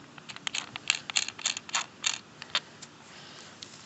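A handle bolt on a Craftsman 25cc two-cycle weedwacker is worked loose, giving a quick series of small clicks and creaks, close and fairly quiet.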